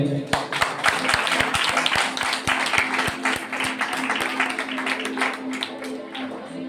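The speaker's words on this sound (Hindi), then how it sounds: "ताली बजाएं।" A congregation claps through a Christmas church service, crowd applause with rhythmic beat-like claps underneath, loud and continuous, while a voice speaks over it.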